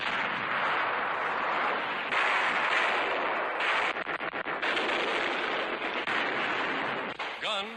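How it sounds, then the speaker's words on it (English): Junkers 88 aircraft bombing a road supply line in 1943 Tunisia: dense, continuous roar of explosions and gunfire, with rapid bursts of shots toward the end, loud and sustained. "The Junkers 88 attacks the supply line, bombing the road."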